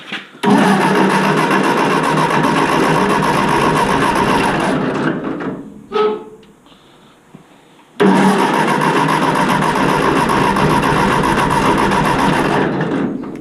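A Ford 8N tractor engine cranks and catches, then runs at a loud, steady clatter nearby, dies for a moment, then starts again and keeps running strongly to the end.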